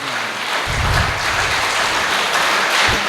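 Audience applause at a Punjabi mushaira poetry gathering in a college hall, a dense burst of clapping rising after a brief moment and sustained steadily at close range without talk.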